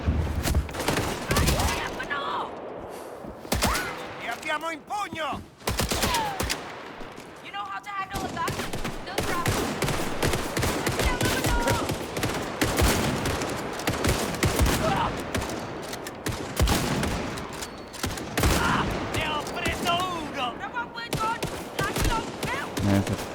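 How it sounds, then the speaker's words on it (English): Repeated bursts of gunfire and automatic weapon fire in the video game Indiana Jones and the Great Circle, loud and dense throughout, mixed with game sounds and voices talking. "This gun does not want to hit."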